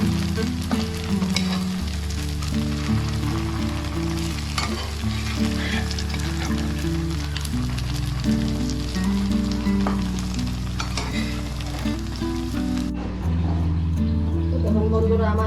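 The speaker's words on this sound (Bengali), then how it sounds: "আমার বড়া গোল্ডেন ব্রাউন করে আমি ভাজা করছি, আমি কম কম আগুনে ভাজা করছি।" Chenna fritters fry on low heat until golden brown, a steady, close sizzle with occasional stirring clinks running throughout under continuous background music and some voice.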